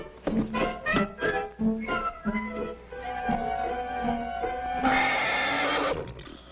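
A horse neighs loudly and close by, a long shaky whinny with rising and falling pitch, followed by a rough breathy snort.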